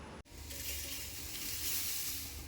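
Moringa leaves dry-roasting in a pan, a brief bump at the start followed by a continuous crackling hiss of leaves against hot metal, close and even throughout.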